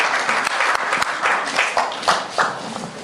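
Audience applause at a poetry award ceremony, steady clapping from a crowd filling the full three seconds, fairly close and lively with distinct individual claps.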